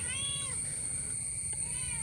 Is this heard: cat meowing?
yes